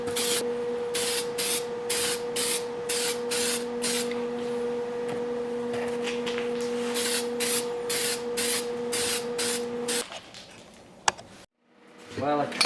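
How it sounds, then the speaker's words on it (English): A spray can lays primer onto metal parts for a mini bobber motorcycle build, heard as a rapid run of short, close hissing bursts with steady gaps, then a longer spray and a faint clatter at the end. "I can give them a quick spray paint and make them look a little bit newer and cleaner"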